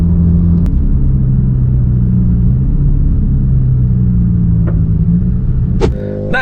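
A Porsche 992 GT3 with a naturally aspirated engine runs with a loud, steady, deep rumble that drones on without pause, with a couple of brief clicks near the end.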